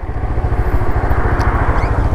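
Honda XRE motorcycle engine idling steadily nearby, a continuous low throbbing rumble with a fast regular pulse, loud and alone without talk.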